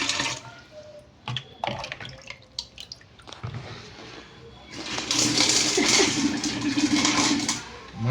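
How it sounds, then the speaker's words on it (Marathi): Water splashes and pours into a fish pot, first in short bursts and drips, then as a loud, sustained gushing rush over the second half, with some background voices. "पाणी टाकून राहिले बघा"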